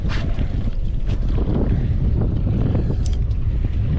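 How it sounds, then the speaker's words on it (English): Strong wind blowing across a lake at dusk during a fishing outing, a steady loud broadband rush with buffeting on the microphone throughout. "It's real windy out here though."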